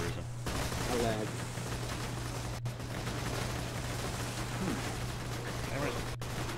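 Gunfire in the video game Borderlands 2 rattles as a steady stream of rapid shots at moderate loudness, mixed with game mechanisms and a constant low hum, with players talking over it.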